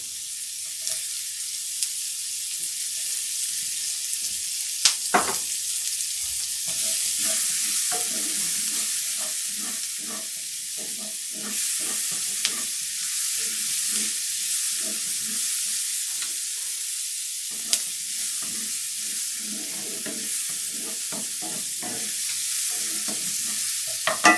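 Onions and green onion frying in a pan for pierogis, with a steady bright sizzle throughout and intermittent scraping stirs, close and continuous.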